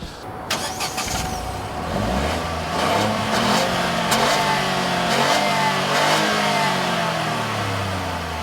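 A 2014 Ford Fiesta's small 1.0-litre EcoBoost turbocharged engine revs up and accelerates, its pitch climbing steadily through the gears, loud and close with a continuous roar.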